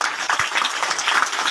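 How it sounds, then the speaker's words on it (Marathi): Applause from an audience at a community event honoring a women's program organizer: a steady, dense wash of many hands clapping together, fairly close and continuous without pause. "मग त्यांच्यासाठी टाळ्या द्या"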